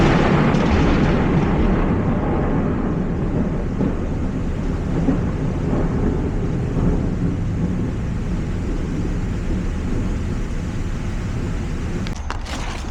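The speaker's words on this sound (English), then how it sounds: "it started raining really hard." Heavy rain roars steadily without a break, a dense, continuous wash of noise with a faint low rumble beneath it.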